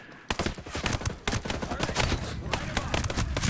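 Dense, continuous gunfire in the shooter Ghost Recon Breakpoint, with rapid overlapping shots and heavy fire that never lets up, plus faint voices underneath.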